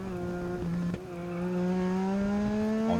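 A Legend Car race car powered by a motorcycle engine drones steadily, its pitch climbing smoothly as it accelerates, loud and close with no talk.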